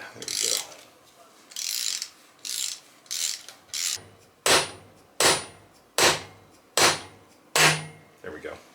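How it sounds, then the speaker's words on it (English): A ratchet wrench loosens the pinch bolt on a 1974 Norton motorcycle's front forks during a fork seal rebuild, giving about ten close, crisp ratcheting clicks in a steady rhythm with short pauses between strokes. "I'm going to loosen the pinch bolt here."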